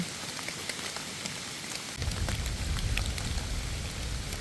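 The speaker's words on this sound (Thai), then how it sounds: "ฝนตกดีแฮง" Steady rain patters densely on surfaces nearby, a constant hiss with scattered sharper drops, growing heavier and fuller after about two seconds.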